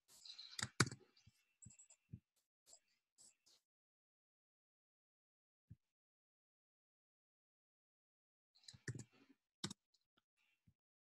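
Computer keyboard keys clack in short, sparse bursts in a quiet room, with long silent gaps between a few clustered taps.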